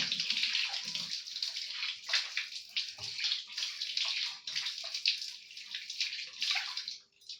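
Cool water splashes and runs continuously as someone rinses their face, with a steady watery hiss and occasional soft slaps of water against skin.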